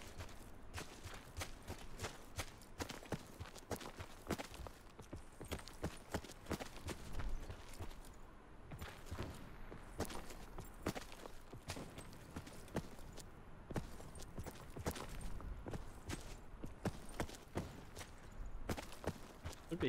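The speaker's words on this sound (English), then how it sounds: "Hearing the enemy footsteps anyway." Enemy footsteps in the Black Ops 4 Blackout battle royale game patter in a fast, steady run of light thuds lasting many seconds, fairly quiet and continuous with no talk over them.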